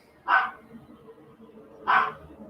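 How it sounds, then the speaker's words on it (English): A small dog lets out two sharp, high barks about one and a half seconds apart, close by, with quiet room noise between them. "she's just going to keep barking"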